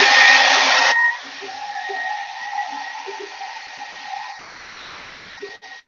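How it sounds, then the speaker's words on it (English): A hair dryer blasts loudly for about a second, then winds down to a fainter whir with a whistling tone as it keeps running. "turn it on high"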